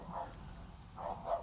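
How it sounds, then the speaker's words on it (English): A neighbor's dog barks a few times in the distance, two or three muffled barks spaced across a quiet moment, faint and alone. "I apologize for the barking dog."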